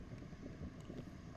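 Wind gusting outdoors at a disc golf tournament, a steady low rushing buffet against the microphone, faint and continuous with no voices.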